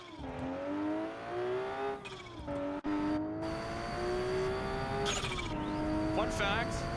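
Car engine sounds in a Nissan GTR style, built to mimic a tuned street car, rev and shift through rising and falling tones, with sharp blow-off valve hisses made from a reversed, sped-up and processed toilet flush recording.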